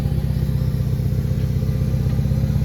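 A Kubota GB 110 two-cylinder, 10-horsepower mini tractor engine chugs steadily at close range, a low, even putter with a rattly mechanical clatter and no change in speed.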